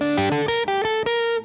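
A James Tyler JTG MK1 electric guitar plays through a pedal board with the effect engaged, giving a short phrase of sustained, processed notes that ring out clearly and then fade.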